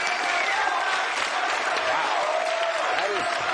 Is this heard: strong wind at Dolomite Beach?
no